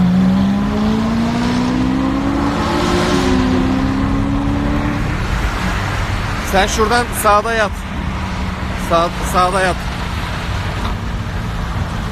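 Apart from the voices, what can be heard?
cars accelerating on a road at night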